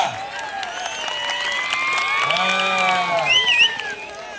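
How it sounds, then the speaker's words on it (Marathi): A crowd at a village wrestling dangal roars and cheers around the akhada, with whoops and shouts rising over a steady crowd din while a voice calls out above the noise. "करा की टाळ्या."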